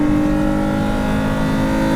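A Mk3 Toyota MR2 track car with a V6 and manual gearbox holds a loud, steady engine note close by, a sustained drone with strong tonal harmonics and no pause across the two seconds.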